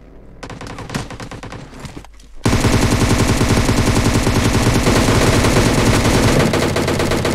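Loud gunfire in the PUBG Mobile video game: rapid automatic bursts with sharp cracks, a brief pause, then a dense, sustained, close barrage of fire.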